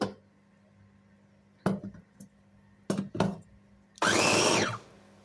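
An electric blender grinding a small onion in short pulses: several brief whirring bursts separated by quiet pauses, then a louder, sustained roar of about a second close by.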